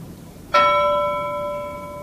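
A single bell strike from a short film rings out clearly and then lingers, its bright tone sustaining and slowly fading for well over a second without any talking.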